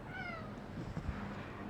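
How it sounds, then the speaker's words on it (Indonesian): A cat gives a single short meow near the start, faint against a quiet background with low rumbling noise after it. "Ada kucing"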